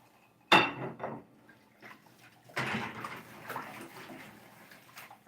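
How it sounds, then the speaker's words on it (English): Dishes are washed and rinsed by hand at a sink with a sponge and soap: a sharp clatter of dishware, then running water and scattered clinks and splashes close by. "So we scrub with the sponge, but when we're rinsing, we want to use our hands."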